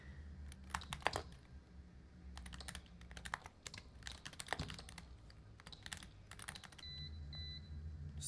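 Rapid typing on a computer keyboard during a typing game, bursts of crisp keystrokes in uneven clusters with short pauses and a low hum beneath, close and fairly quiet, no talking.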